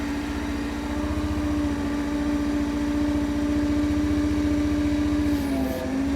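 A MachPro MP30 mini excavator engine runs at a steady, loud idle, a constant mechanical drone with a slight dip in pitch near the end.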